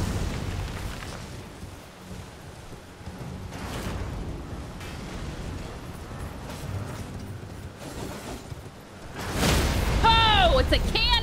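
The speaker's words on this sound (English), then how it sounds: "Oh, it's a cannon." A cannon firing in Elden Ring gives one loud, deep boom late in the clip, after a low rumbling stretch with muffled impacts, while players talk excitedly over it.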